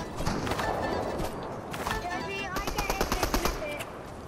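Rapid SMG gunfire in Fortnite, bursts of quick sharp shots, close and loud, with the rhythm clearest near the end, and people talking over it.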